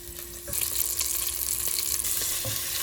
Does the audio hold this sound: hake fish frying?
yes